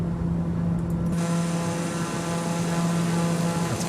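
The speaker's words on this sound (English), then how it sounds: "I'm going to turn the volume down for the airplane." TBM turboprop airplane engine in Flight Simulator 2020, a loud continuous drone with a steady propeller hum that holds throughout and shifts slightly in tone partway through.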